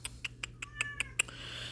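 Small kitty cat meowing repeatedly, about seven short high cries in a quick steady rhythm, close and clear over a low steady hum.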